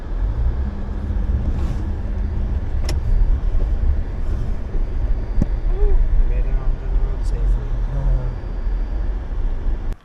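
A car engine runs steadily with road and cabin noise at the start of an early-morning drive down a snowy mountain, continuous and fairly loud under people talking.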